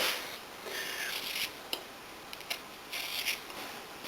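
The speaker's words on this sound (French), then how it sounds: "Donc on commence d'abord par éplucher les pommes de terre" Agata potatoes being peeled by hand, a soft rasping scrape that comes in repeated strokes with a few sharper clicks, close and fairly quiet.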